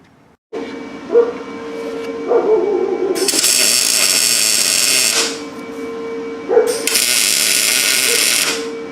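Tack welding a transmission crossmember onto a Jeep TJ frame: two long bursts of harsh, crackling arc hiss, each lasting about two seconds, separated by a quieter steady hum, recorded close up.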